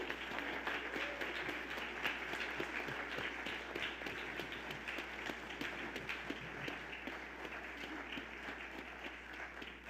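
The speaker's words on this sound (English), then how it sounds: "So let us all give our new members a round of applause." A church congregation applauds its new members, a quiet, steady patter of many hands clapping that stays faint and distant over a low hum and gradually thins out toward the end.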